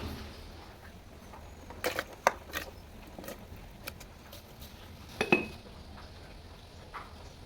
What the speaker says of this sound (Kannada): ಶುಂಠಿಯನ್ನು ಗುದ್ದಬೇಕು ಸ್ವಲ್ಪ ಕತ್ತಿಲಿ